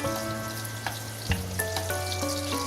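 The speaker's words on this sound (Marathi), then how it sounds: "आता छानपैकी हे बटाटे मी या तेलामध्ये चांगले फ्राय करून घेणार आहे" Potatoes fry in hot oil for dhaba-style dum aloo, a continuous hissing sizzle heard close up, with a faint steady tonal hum running underneath.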